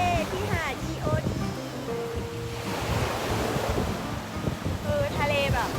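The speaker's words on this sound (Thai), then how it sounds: "ด้านหลังก็คือทะเลที่หาด EOD" Sea waves wash steadily onto EOD Beach in the evening, with a constant surf roar and wind buffeting the microphone, while people talk over it and a few brief higher calls come through.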